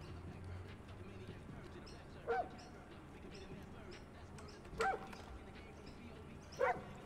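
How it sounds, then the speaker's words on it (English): Dog barks from Far Cry New Dawn gameplay: three short, separate yips or barks spaced a couple of seconds apart over a steady low game ambience. "Do I have a pet dog now?"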